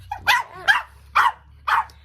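Two pet dogs at home bark for attention, four sharp barks at a steady, roughly half-second rhythm. The barks are loud and close, with no voices.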